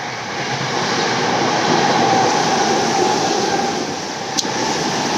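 A train in Tokyo roars past nearby in a steady, loud wash of rumble and rail noise, swelling slightly then easing, with one sharp click near the end.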